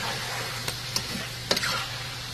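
Garlic and red chili sizzle in a pan with a splash of soy sauce, a steady hiss broken by a few sharp clicks of a utensil stirring against the pan.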